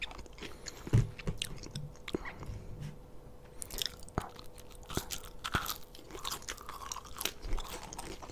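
McDonald's fries are eaten up close, with soft crisp crunches and wet chewing in an irregular rhythm, the quiet bites coming in a steady run without talk.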